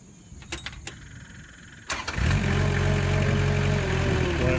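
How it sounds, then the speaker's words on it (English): A few clicks, then an engine cranks and catches, settling into a steady, loud idle close by. "Go ahead and crank the engine."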